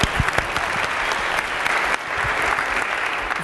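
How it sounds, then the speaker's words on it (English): Steady applause from a student orientation audience at an art university, dense and loud throughout with a brief dip near the middle. "Round of applause."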